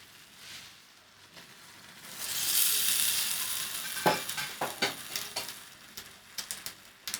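Pasta dropped into a cooking pan with cauliflower sauce and stirred, a soft sizzle swelling up followed by a series of quick scraping and clinking stirs, fairly quiet with no talk.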